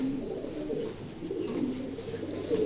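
A pair of racing Maxi pigeons coo softly nearby, low repeated throaty calls in a steady murmur with faint background noise.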